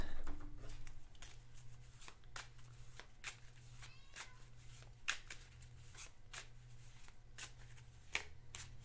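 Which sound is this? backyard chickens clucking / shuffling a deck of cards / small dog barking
shuffling a deck of cards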